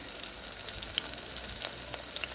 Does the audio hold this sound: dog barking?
no